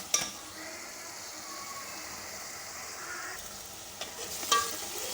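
Tomato masala fries in oil in a pan with a quiet, steady sizzle, while a spoon stirs it now and then with light scraping clicks; no one speaks.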